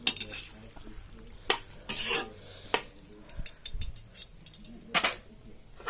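A metal spoon scrapes and clinks against a pot as pork is stirred, in irregular bursts over a soft sizzling background.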